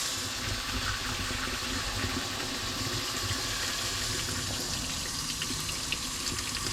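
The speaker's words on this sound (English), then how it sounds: "So what I do is run some very, very hot water" Very hot tap water pouring steadily over a can of Coco Lopez cream of coconut at a bar sink, a continuous, even rushing splash with no talking.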